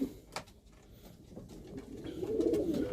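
Pigeons in a coop give soft, low cooing that swells in the last second, alongside a light flutter or tap near the start, all fairly quiet and close.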